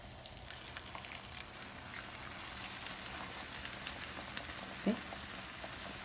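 Blended tomato sauce simmering in a pan for chile relleno, a steady soft bubbling hiss with one brief clunk near the end, no talking.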